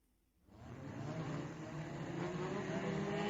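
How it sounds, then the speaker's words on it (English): A racing car approaches after a brief quiet moment, its engine swelling into a sustained high whining roar that builds and holds at speed. "Marvellous cars, aren't they? Wonderful. Fantastic. So fast."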